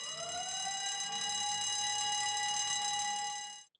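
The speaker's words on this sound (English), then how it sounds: "an evacuation alarm will be triggered from the weighbridge" A site evacuation alarm sounded from the weighbridge rings as one steady, loud electronic tone rich in harmonics, rising briefly at the start, holding for about three and a half seconds and then cutting off.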